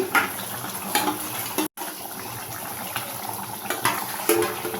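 Rice flour being stirred into water with a spoon while making a red rohu fish curry, producing soft swishing and light clinks against the bowl, quiet and intermittent with no talking.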